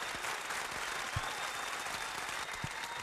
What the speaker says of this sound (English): Hit the applause.